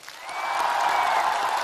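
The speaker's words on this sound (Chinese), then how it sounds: "让我们用热烈的掌声给他们加油。" Warm applause from a studio audience at a televised stunt-challenge show, swelling quickly within the first half-second and then holding as a dense, steady clapping wash without a break.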